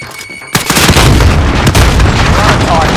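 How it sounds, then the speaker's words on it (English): A video-game grenade goes off with a sudden loud boom and a crackling blast that rings on and then fades into sustained rumbling noise. "Grenade out!"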